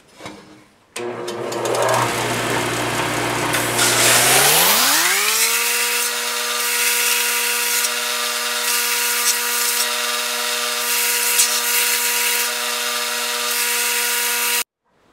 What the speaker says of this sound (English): I'm going to start out over here on the belt sander to get most of it off.